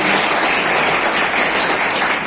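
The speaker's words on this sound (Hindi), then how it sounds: "तो एक बार फिर से जोरदार तालियां सर के लिए।" Audience applause for a teacher at a Teacher's Day event, a steady dense wash of clapping that fills the whole stretch at even loudness with no voices over it.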